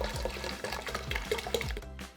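A full 2-liter bottle of soda poured into a drink mix, a steady gurgling liquid stream with glugging pulses from the bottle neck, close and continuous before trailing off at the end.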